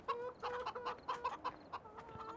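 Chickens cluck in a farmyard in the Farming Simulator 17 video game, with a steady run of short, fairly close clucks repeating in a quick uneven rhythm and no talking over them.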